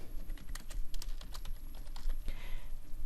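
Rapid clicking of computer keyboard keys as a folder name is typed, a steady run of close, crisp keystrokes with no talking.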